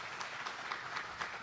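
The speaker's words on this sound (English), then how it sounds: "Gentlemen, a round of applause for the Group 4 candidates." Audience applause at a Coral Gables candidate forum, a steady wash of clapping from a seated crowd for the Group 4 candidates, fairly faint and distant throughout.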